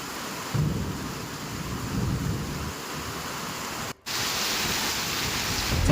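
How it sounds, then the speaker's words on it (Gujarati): Torrential monsoon rain pours over the rural villages of Maliahatina taluka in Junagadh, Gujarat, with rolling thunder. A dense, continuous roar stays loud and close throughout, broken only by a momentary drop. "જૂનાગઢના માળિયાહાટીના તાલુકાના ગ્રામ્ય પંથકમાં ધોધમાર વરસાદ।"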